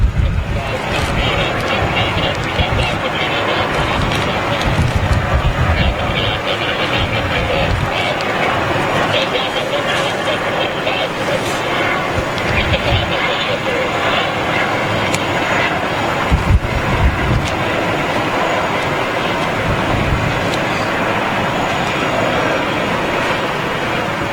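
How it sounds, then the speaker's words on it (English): An Aeroflot jet airliner roars down the runway on its departure roll at New York JFK Airport, a loud sustained engine rumble mixed with gusting wind noise, while a person talks over it. "Aeroflot's on the departure roll"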